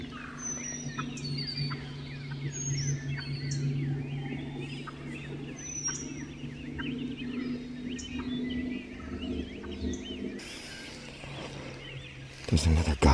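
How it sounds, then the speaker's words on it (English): Wild turkey hen clucking in an open field during late-season hunting, short repeated clucks and yelps at moderate distance over a steady low hum, with other turkey calls around and a brief rustle near the end. "There's a hen coming down my side of this field clucking"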